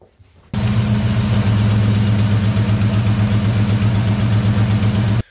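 A supercharged car engine runs rough with a spark plug wire pulled, a loud, close, steady idle with an uneven, throbbing pulse that starts abruptly and cuts off at the end.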